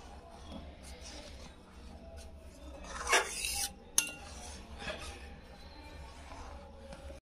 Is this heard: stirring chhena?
yes